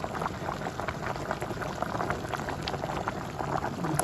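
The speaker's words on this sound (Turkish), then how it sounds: "İşte bu şekilde biraz kaynayacak bu." A pot of karnıyarık stew thickened with tomato paste bubbles at a rolling boil, a dense, even gurgling and popping that carries loudly and continuously with no voices.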